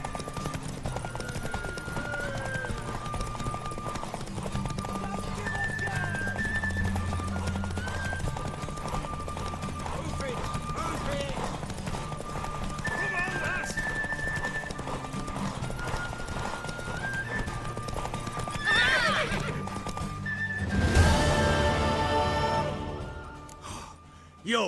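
Steady clip-clop of hooves runs throughout, with a horse whinnying and snorting several times, loudest near the end, over a quiet game soundtrack in The Witcher 3.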